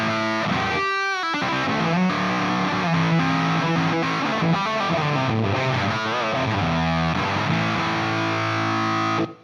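Electric guitar played through a Plexi amp model via an N-Audio 8x7 amp switcher, thick and distorted, with chugging riffs and sustained chords, loud and upfront throughout with no talking.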